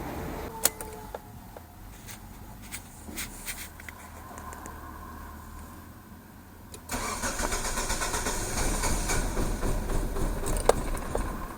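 A car engine cranks and catches, then runs roughly at a louder level after a few clicks and knocks. The stall is not clearly heard before the end.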